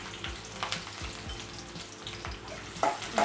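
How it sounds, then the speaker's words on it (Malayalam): Chopped shallots and dried red chilies frying in hot oil after mustard seeds have popped, a steady close sizzle with a few stirring scrapes and no talk. "ഇനി നമുക്ക് ചുവന്നുള്ളി അരിഞ്ഞതിടാം"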